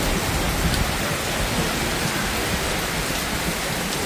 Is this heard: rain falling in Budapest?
yes